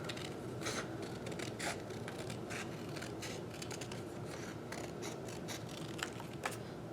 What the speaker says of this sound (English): so I'm gonna go ahead and cut that.